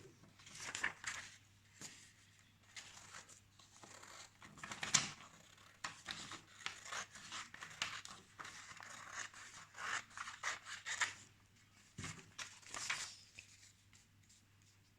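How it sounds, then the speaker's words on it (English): Scissors snipping paper down to card size for a 3D umbrella summer card, a quiet run of short crisp cuts and rustles in irregular bursts, close up, with no talking. "cut it by the size of your card"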